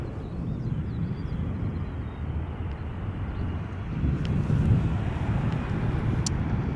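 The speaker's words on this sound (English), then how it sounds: "KLM flight 696, arriving from Toronto, A330-300" A KLM Airbus A330-300 airliner arriving from Toronto lands at Schiphol Airport, a distant low jet rumble that swells midway, mixed with steady wind noise on the microphone.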